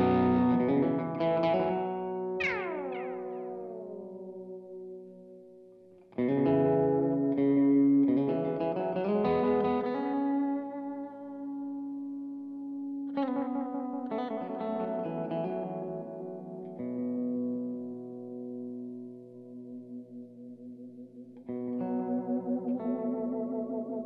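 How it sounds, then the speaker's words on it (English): Guitar phrases repeat back as warm, slightly murky echoes from the analog delay mode of a Source Audio Collider pedal, each note smearing into softer trailing repeats, played without any speech. "So this is what our analog delay sounds like."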